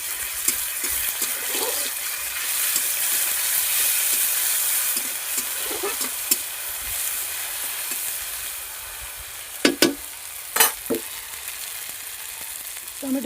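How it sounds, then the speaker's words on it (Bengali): Ginger, onion and green chili paste frying in a pan, a continuous hiss and sizzle with occasional scraping stirs and a few sharp utensil knocks against the pan, close up. "ভালো করে নাড়াচাড়া করে নিচ্ছি।"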